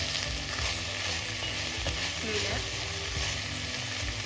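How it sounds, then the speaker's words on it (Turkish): Broad beans and onion fry in olive oil with a loud, dense, continuous sizzle close up. It holds steady for the whole stretch, with faint clinks and a low hum underneath. "soğan kavurduk. Sonra salatayı kavurduk. Sonra baklayı ekledik arkadaşlar."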